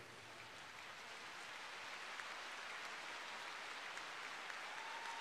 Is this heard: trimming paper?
no